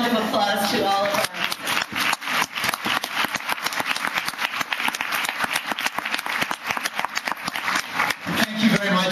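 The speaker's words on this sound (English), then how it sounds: "can we give another round of applause to all of our" A crowd applauding at a community awards ceremony, broadband clapping that starts softer and then settles into a sustained, even ovation.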